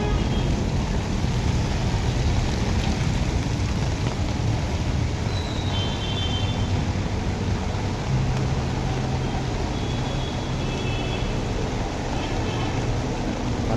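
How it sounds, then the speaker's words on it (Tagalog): Heavy monsoon rain pours down on a busy city street near a train station, a steady loud hiss with low traffic rumble underneath and faint background voices. "Napakalakas ng ulan."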